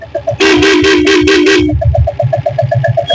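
Horn of a 1997 diesel Bullet motorcycle sounds once in a loud, steady blast of about a second, set against the rhythmic thumping of its idling diesel engine.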